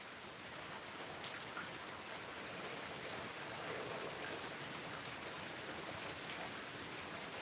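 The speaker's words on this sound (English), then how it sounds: "if you're just looking for the sound of rain, the sight of rain" Steady rain falling on a rainy Monday, a soft continuous patter with occasional sharper drops hitting nearby surfaces, quiet and even throughout, no voices.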